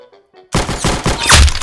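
After a quiet start, a loud burst of gunfire goes off in a 1v1 video game match, a sudden close blast followed by a rumbling, crackling tail.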